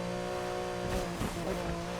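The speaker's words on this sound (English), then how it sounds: "It sounds like a Porsche. That's a lot of wheel spin for a car that's all-wheel drive." Porsche rally car in Need for Speed Heat accelerating hard with heavy wheel spin, a steady loud engine drone with brief tire-scrub bursts across two seconds.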